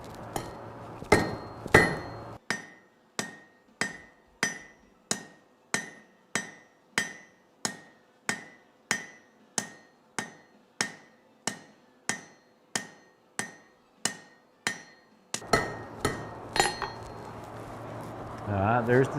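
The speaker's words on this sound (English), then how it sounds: "The part I'm fixing to hammer now will be the leaf tip" Steady metallic hammer blows from a blacksmith shaping a hot metal leaf tip ring out one after another in an even rhythm, close and loud, with brief pauses and a few faster strikes at the start.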